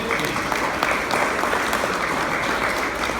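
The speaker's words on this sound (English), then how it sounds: "Randy Pausina, have a round of applause." A seminar crowd at a CCA event breaks into applause, a loud, steady wash of many hands clapping together without pause.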